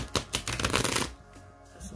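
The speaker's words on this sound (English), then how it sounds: "So let me just shuffle up my Tarot of Opposition deck here." A tarot deck is riffle-shuffled up close, a quick burst of crisp fluttering card clicks lasting about a second, followed by softer handling and quiet.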